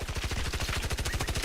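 Rapid continuous minigun fire in an online multiplayer shooter, a fast even rattle of shots running unbroken and loud throughout with no talk over it.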